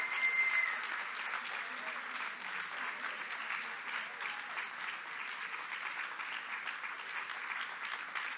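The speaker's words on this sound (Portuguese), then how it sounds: "Palmas, vamos aplaudir a Patrícia Hill Collins" An audience at a book fair applauds to welcome a speaker onto the stage, steady dense clapping that holds evenly throughout at moderate distance.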